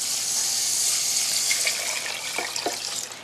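Water is poured from a container into a saucepan of millet, a steady splashing hiss that runs throughout and grows bubblier toward the end, close by with no talk.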